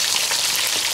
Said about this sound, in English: So I had it frying for 5 minutes